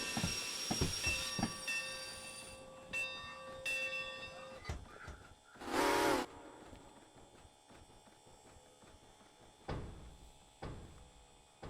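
ATSF 2901 passenger train in the Derail Valley game, with rumbling rail noise, bell-like clanks and a brief loud hiss burst midway, steady mechanical ambience without talk.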